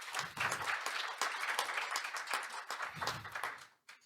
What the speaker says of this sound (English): Please give another good round of applause.